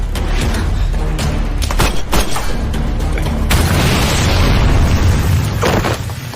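A heavy booming grenade explosion hits in a film scene, followed by a rumbling roar of blast and debris that fills the rest of the clip, with sharp bursts before it.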